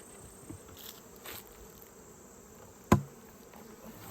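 Honey bees hum and buzz around an opened combo hive during mite checks, a steady insect drone with a few faint knocks and one sharp clunk near the end.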